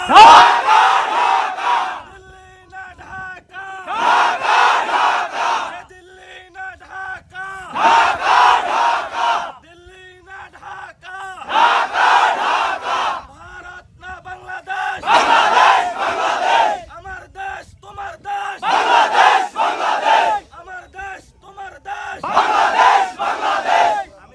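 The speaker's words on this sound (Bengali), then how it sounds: "আমরা সবাইকে একটু স্লোগান করতে পারবো ইনশাআল্লাহ" A large crowd at a border protest in Benapole, Bangladesh, chants slogans in call-and-response: a leader's voice alternates with loud, regular bursts of many voices roaring back.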